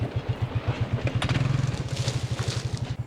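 An Arctic Cat 300 4x4 ATV engine labors up a small, low-traction hill, its loud, close, rhythmic low thumping pulsing steadily, with rattles and brief clatter from the terrain.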